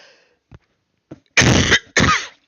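Coughing, two loud harsh bursts close to the microphone, preceded by a few small throat sounds and near silence.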